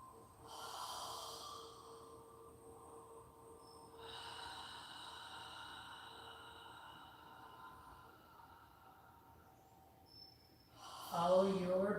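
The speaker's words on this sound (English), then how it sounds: "No rush, we're just inhaling and exhaling." Slow, deep breaths during a yoga session, soft airy inhales and exhales drawn out over several seconds at close range, ending in a louder, rougher breath.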